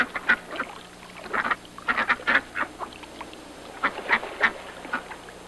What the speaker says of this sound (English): There they were, ducks for dinner.